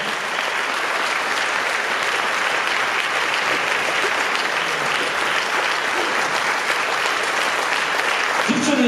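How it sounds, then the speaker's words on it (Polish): Loud, sustained applause for a school vocal ensemble from ZSM in Radom, a dense wall of clapping from a close audience that stays level the whole time, with faint voices mixed in near the end. "Dużo brawa dla was."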